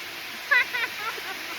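A steady rush of falling water from Hinulugang Taktak waterfall fills the background, with a brief faint voice or splash rising over it.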